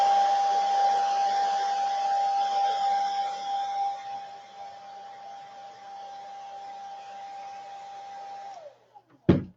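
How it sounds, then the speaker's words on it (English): A nearby hair dryer blows steadily with a whirring hum that eases a little, then winds down and shuts off, followed by a brief clunk. "I'm gonna take my dryer on low"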